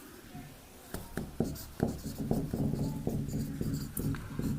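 A pen or chalk taps and scratches steadily while writing a chemistry equation, a series of close, quick strokes and ticks under quiet room noise.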